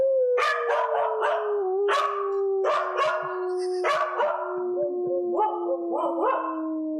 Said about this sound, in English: Can you get her to howl a.k.a. again?